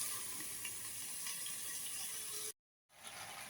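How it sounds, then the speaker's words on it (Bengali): Food frying in a covered pan over a low gas flame, an even close hiss and soft crackle that cuts to silence briefly before resuming. "তো আমি এটা এখন চাপা দিয়ে ভাজবো"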